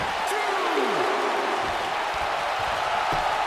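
Arena crowd roaring from WWE 2K19, a St. Louis audience during a Dakota Kai and Paige match, heard as a steady, dense wall of cheering and applause throughout, with a brief sweeping tone and some scattered thumps underneath.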